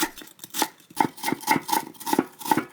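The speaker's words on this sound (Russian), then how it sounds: "Ну, я нарежу полукольцами." Knife cutting an onion into half-rings on a board, a run of about nine crisp rhythmic chops at a steady pace, close and fairly quiet.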